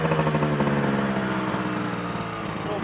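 A Yamaha RD 125 LC two-stroke motorcycle engine runs close by at a bike night, giving a buzzy, rapidly pulsing note that holds steady and then eases off slightly. No voices are heard.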